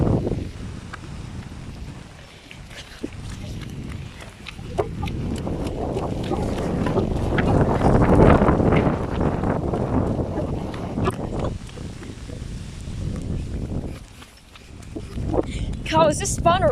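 Strong storm wind gusting around 40 mph roars and buffets the microphone in low, surging waves that swell and ease, with a person talking loudly over it.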